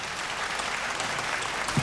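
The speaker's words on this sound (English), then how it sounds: "Quick round of applause, please, for PNG Air." Steady audience applause at a televised singing competition, Vocal Fusion Season 5 in Papua New Guinea, honoring sponsor PNG Air; dense, even clapping fills the short stretch with no talk.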